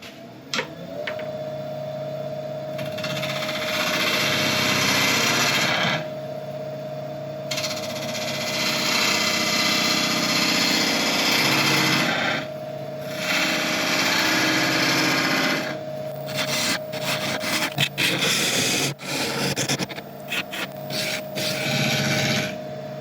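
A wood lathe turns a mallee burl while a tool cuts a small chamfer on the base, giving a continuous rough, rasping scrape with a steady hum that rises and drops in intensity as the cut comes and goes.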